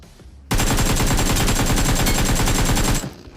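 Sustained rapid automatic gunfire in a battle royale video game, a loud continuous burst lasting about two and a half seconds, alone with no talk.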